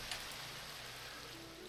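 Steady rain hisses in the Minecraft modpack SevTech Ages, a faint, even patter of drops with no talk over it.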